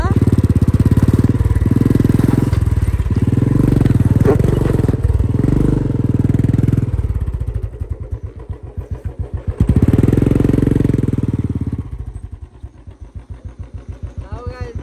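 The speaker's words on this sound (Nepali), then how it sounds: "अब हामी दाइले चाहिँ यस्तो बाटोबाट बाइक लाँदैछ" A motorcycle is ridden along a rough, difficult trail, its engine droning loudly and unevenly with rising and falling revs, easing to a lower idle-like chug partway through before surging again.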